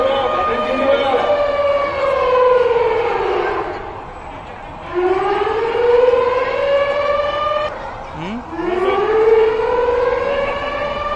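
A loud civil defense siren sounds during a police mock drill, wailing up and down in long rising and falling cycles that repeat across the whole stretch, with a brief dip between sweeps.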